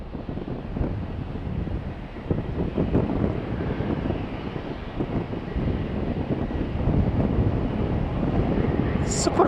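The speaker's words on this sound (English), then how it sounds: "It's super windy at the moment." Strong wind at Faro Airport buffets the microphone in a continuous low rumble that swells and roars, with faint speech buried under it.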